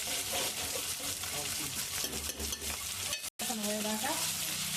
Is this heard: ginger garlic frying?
yes